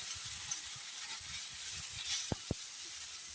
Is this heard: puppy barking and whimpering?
no